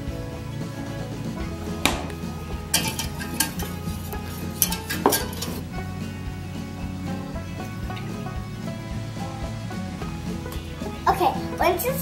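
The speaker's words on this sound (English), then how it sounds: "And then whisk it until it's thick." Whisking chicken broth into a roux in a pot for chicken pot pie, a steady scraping and stirring texture with clinks of a utensil against the pot, heard under background talk and household noise.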